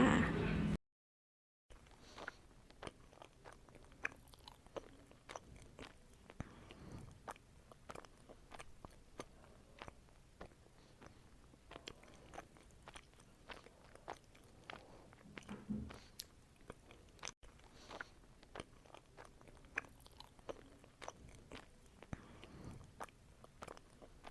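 Japanese chewy sweet potato being bitten and chewed close to the mic, with soft repeated crunchy bites and moist chewing in a quiet room, plus a short loud burst at the start.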